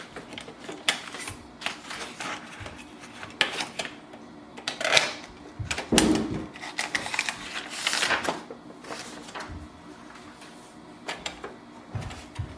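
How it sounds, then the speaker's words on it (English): A series of clicks, plastic rattles and sliding scrapes as A4 paper and the tray of a Pantum laser printer are handled and pushed into place, irregular and close. "Load A4 size or letter size paper."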